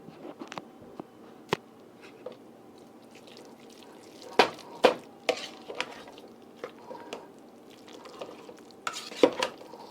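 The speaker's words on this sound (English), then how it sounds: "add my egg and get it thoroughly incorporated" A spoon stirs egg into a seasoned sweet potato mixture in a bowl, making soft wet squelching with scattered sharp clinks of utensil on the dish, close and fairly quiet.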